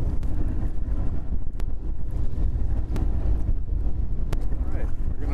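Strong wind blows across a lake on a boat, a loud, steady roaring rush that buffets the microphone with a few sharp knocks and no pause.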